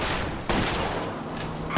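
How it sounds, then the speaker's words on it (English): Gunshots ring out in L.A. Noire as a detective fires at a fleeing car's tire, one loud sharp report over continuous engine and road roar with dense crackling shots following close together. "I'll try to shoot out his tire."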